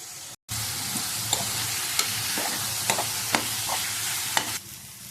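Tomatoes sautéing in a pan for mutton curry give a steady close sizzle, with several sharp spoon-against-pan clinks from stirring scattered across it and no talking.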